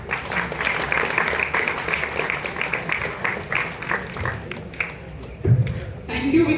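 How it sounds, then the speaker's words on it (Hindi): College students clapping to welcome a teacher on the first day of college; uneven group applause with voices mixed in, tapering off near the end as the crowd settles. "उनके लिए तालियों से स्वागत किया जाए"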